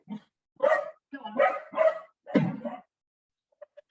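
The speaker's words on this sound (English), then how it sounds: "I'm getting rid of the dog" A dog gives several close, loud barks and yips in quick succession, followed by a pause and two faint short sounds.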